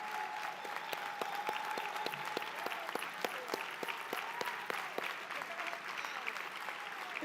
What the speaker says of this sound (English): Let's give her a rounding applause and a standing ovation.